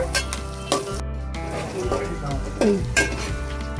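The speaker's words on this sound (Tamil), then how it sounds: "வெங்காயம் நல்லா வதங்கிடுது. நல்லா இந்த மாதிரி வதங்கணும்" Onions, curry leaves and crushed garlic sauté in a pan for spicy village-style fish curry, with a steady close sizzle broken by a few loud scrapes and clinks of a spoon stirring against the pan.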